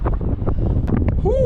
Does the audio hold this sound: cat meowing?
no